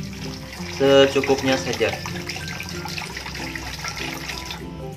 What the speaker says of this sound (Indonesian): kita tuangkan airnya, tapi jangan dulu terlalu banyak